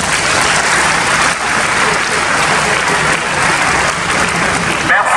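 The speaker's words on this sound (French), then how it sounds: "Merci Père, s'il pouvait acclamer pour lui." A church congregation applauds steadily and loudly at a Mass in Saint-Esprit de Moungali, honouring a newly ordained priest, a continuous dense wash of clapping for about five seconds.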